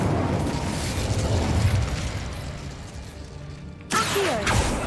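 The Incendio fire spell in Hogwarts Legacy, a loud sustained roaring whoosh of flame with rumbling low-end and crackle that cuts off abruptly, followed by a brief burst of other game sounds.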